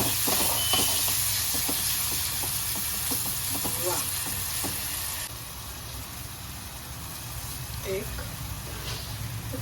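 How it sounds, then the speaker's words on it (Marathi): Banana sautéing in ghee in a pan, a steady broad hiss and sizzle running throughout at moderate level, with faint scattered clicks and a voice talking over it. "आता हे केळं घालून घेऊया केळं छान परतून घ्यायचं घीमध्ये"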